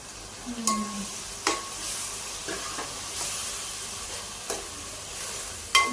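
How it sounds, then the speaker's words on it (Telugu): Onions and a ground masala paste fry in a pan with a soft, steady sizzle, punctuated by several sharp scraping stirs of a spoon, fairly quiet and close, with no voices. "ఇందాక మనం మిక్సీ పెట్టుకున్న పేస్ట్ అంతా దీన్ని వేసేసుకొని మంచిగా దాన్ని ఫ్రై చేసుకోవాలన్నమాట"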